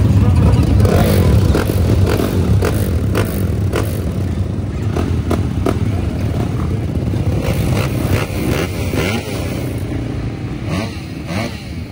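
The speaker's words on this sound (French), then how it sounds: "Une moto préparée par Greg, 2 motos, 3 motos." Several prepared motorcycles idle and rev near the start of a cross-country race at Le Puy-en-Velay, a loud continuous engine drone with repeated throttle bursts, and people talking under it.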